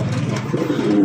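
A restless fancy racer pigeon coos up close, a low, throaty burbling that rises and falls in short repeated phrases.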